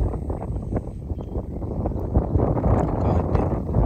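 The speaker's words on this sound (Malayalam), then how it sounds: "കാറ്റ്" Wind gusts buffet the microphone beside a Kerala village fishing spot where a cast net is being thrown. The rumble is uneven, rising and falling, with faint rustling and no clear speech.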